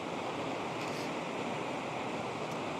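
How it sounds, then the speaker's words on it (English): A rushing mountain river at night in Rocky Mountain National Park gives a steady, even broadband roar of flowing water, moderately quiet and unbroken, with no voices. "Standing out here on the edge of the rushing river makes it very nice and pleasant."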